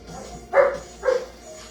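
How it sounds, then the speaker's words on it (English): Dogs play rough in the background, giving two short barks about half a second apart, faint to moderate over a quiet room hum. "Now you get to hear the dogs bark because they're playing Bitey Face."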